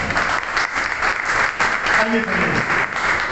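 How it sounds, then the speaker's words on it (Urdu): A church congregation claps steadily for a few seconds, a dense, even patter of applause with a voice briefly mixed in. "ذرا تالیاں بجا دیں"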